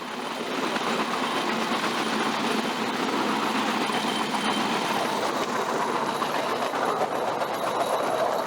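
Bamboo train running on abandoned rail tracks through rural Battambang, Cambodia, near a colonial bridge: a steady, continuous engine drone and rolling rail rumble, loud and unbroken throughout with no voices.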